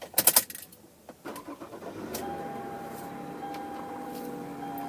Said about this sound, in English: I'll start it up with you